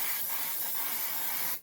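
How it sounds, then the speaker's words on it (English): A can of purple glitter spray released in one continuous close hiss lasting under two seconds, then cutting off abruptly. "I got a purple glitter spray"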